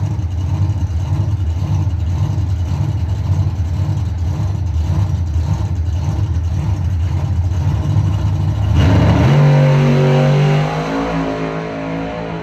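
A Mopar door-slammer drag race car idles loudly with a rough, pulsing engine note, then revs hard and launches, the roar rising and shifting as it pulls away.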